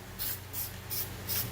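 Aerosol can spraying guide coat onto a Fox Body Mustang's body during paint prep: four short hissing bursts at an even pace, close and clear, with a steady low hum underneath.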